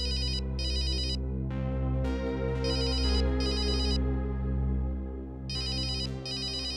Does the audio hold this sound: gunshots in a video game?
no